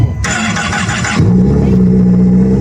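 A boat engine cranks with a rough whirring burst, then catches and settles into a steady, loud, low idle hum close by.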